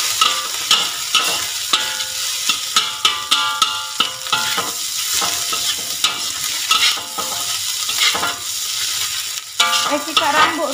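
Egg frying in a hot pan while being stirred for fried rice, a steady close sizzle broken by repeated scraping and clattering stirs, with no talking.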